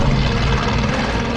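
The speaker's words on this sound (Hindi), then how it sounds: "हेलीकॉप्टर" Steady helicopter rotor and engine drone, loud and continuous throughout with no voices.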